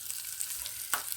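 Four green chillies, each cut in two, fry in a pan with a close, steady sizzle and light crackle, and no voices are heard.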